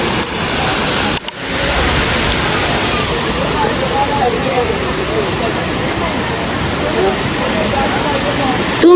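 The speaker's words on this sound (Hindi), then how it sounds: "पानी की आवाज कसम से मदहोश करता है" Rushing water at Khiwai waterfall roars as a steady, dense wash of noise close by, unbroken apart from a brief dropout early on.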